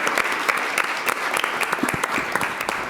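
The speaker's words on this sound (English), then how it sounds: "you please clap it up for this fantastic panel?" A live audience at a panel discussion on economic mobility and free expression claps steadily, a dense burst of hand-clapping filling the room.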